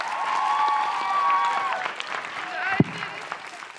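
An audience breaks into a round of applause for a woman at a live talk event, the clapping rising under a sustained tone and then fading, with brief voices in the mix.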